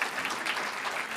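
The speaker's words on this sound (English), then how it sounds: "please welcome a big round of applause for Jacques Pépin and Sheryl Julian." Audience applause at a live culinary event with a chef, a brief burst of dense, steady clapping from a crowd, fairly loud and continuous with no talk over it.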